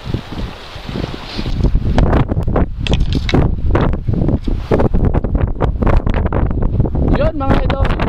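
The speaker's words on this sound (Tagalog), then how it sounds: "Ngayon ay malakas ang hangin" Strong wind buffets the microphone in heavy, rumbling gusts at a coastal fishing cove, with a person talking under the roar.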